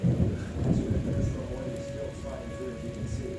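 Heavy rain pours during a Des Moines, Iowa thunderstorm, a continuous hiss layered over low, rolling thunder that rumbles loudest at first and then settles into a steady drone.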